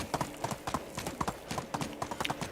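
Rhythmic hoofbeats of a horse galloping in the medieval life-sim game Medieval Dynasty, a quick steady clip-clop pattern heard close and alone at moderate level.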